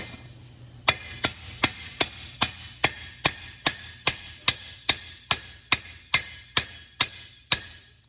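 A bushing being driven into a transmission extension housing with a hammer: about fourteen sharp, evenly spaced metallic blows ringing out close and loud, each with a short decay, over a low background hum.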